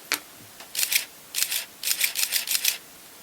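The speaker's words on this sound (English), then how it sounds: "This is also a Contax, and get it on its fastest shutter speed" A Contax camera set to its fastest shutter speed, with the lens cap on, clicks several times in short, sharp mechanical bursts, some coming as close pairs and one brief tick on its own, near and fairly quiet.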